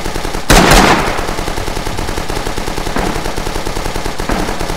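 A machine gun firing in Rising Storm, a jungle battle, with a loud close burst followed by a steady rapid rattle of rounds continuing throughout, alone without voices.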